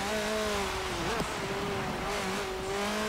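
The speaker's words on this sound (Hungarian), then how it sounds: "Hallod, ahogy siklik a gumi gyakorlatilag az aszfalton." Car tyres sliding and squealing on asphalt in the racing game Forza Motorsport 7, a steady tonal scrub over continuous engine drone, loud and close throughout.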